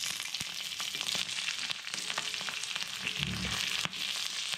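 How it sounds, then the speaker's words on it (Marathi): Garlic cloves and green chilies fry in hot oil in a home kitchen, giving a steady close sizzle with crackling pops and a few sharper spits throughout. "या तेलामध्ये मी ह्या लसणाच्या पाकळ्या आणि ही मिरच्या,"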